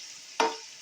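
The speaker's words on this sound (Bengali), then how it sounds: "আদার পেস্ট দেওয়ার পর আরেকটু ভেজে নিয়ে হালকা" Ginger paste hits a hot pan in a single sudden burst of frying, a loud sizzle that rises sharply and then fades over a fraction of a second.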